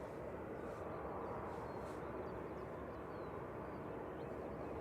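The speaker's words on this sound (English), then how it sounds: "Loganair coming in from Isle of Man. ATR 72600G LMTE flight 693. Our first prop of the day." A Loganair ATR 72-600 turboprop arrives at Manchester Airport, a steady, fairly faint broadband engine drone heard from a distance, holding constant throughout with no talking.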